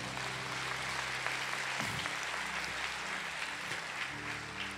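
A church conference audience applauds and cheers for the Lord, a steady wash of clapping and crowd noise held throughout, with a low sustained hum beneath and no talk.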